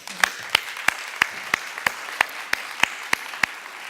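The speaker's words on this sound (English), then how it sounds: "I would like all of you to applaud them because of these great efforts." An audience at an event claps together in a sharp, even rhythm, about eleven claps in under four seconds, loud and close with no other sound.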